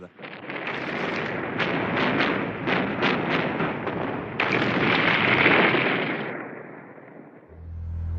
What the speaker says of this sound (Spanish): Durante 5 días dispararon casi 2 millones de proyectiles. Fue un bombardeo tremendo que hizo temblar la tierra.